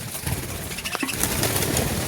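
Pet birds in a cage making soft pigeon-like coos amid light rustling and a brief flutter, heard close over a steady background hiss.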